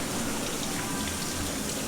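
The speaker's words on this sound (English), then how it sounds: "It's raining again." Steady rain falls over Subic Bay in the Philippines, a dense continuous hiss of drops on surfaces, close and even with no talk over it.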